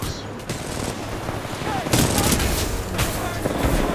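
Sustained automatic gunfire and blasts from supporting fire in Titanfall 2 rattle loudly and continuously, punctuated by heavier booms.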